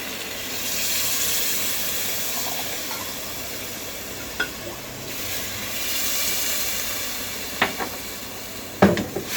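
A steady broadband hiss of escaping steam from a pressure cooker cooking achar gosht runs throughout, with a few sharp clinks and knocks near the end.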